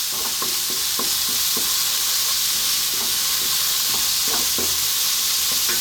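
Coriander and garam masala are stirred in a hot, sizzling pan while cooking a prawn curry. A loud, constant hiss of frying runs throughout, with repeated scraping and tapping strokes from the stirring.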